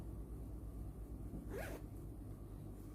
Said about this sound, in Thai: ซิปหลังอย่างเงี้ยนะคะ รูดง่ายเนี่ยค่ะ